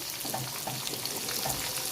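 Chopped garlic, browned in hot oil, sizzles steadily with onions just added for chilli chicken, a close, continuous frying crackle with light stirring, no voices.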